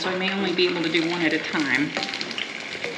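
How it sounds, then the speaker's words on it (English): An empanada frying in hot oil in a small pan, a close, continuous crackling sizzle that runs under a person talking. "So the empanada goes in the hot oil. You should be able to hear it sizzling."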